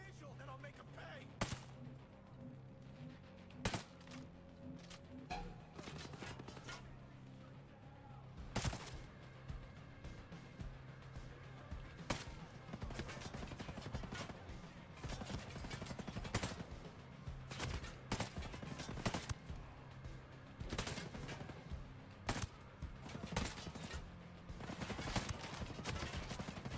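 Enemy gunfire in Ghost Recon Breakpoint: repeated sharp shots and bursts crack through a steady low hum for the whole span, some single, some in rapid clusters, loud and close.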